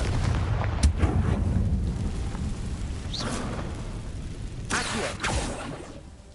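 Deep booming blasts from the Confringo fire spell in the Hogwarts Legacy video game, with a sharp hit near the start and another pair of bursts later, over a rumbling low background.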